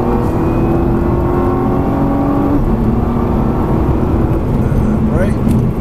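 Car engine in Gran Turismo 5 accelerating under full throttle, a steady loud revving drone with rising engine tones, under continuous talk throughout.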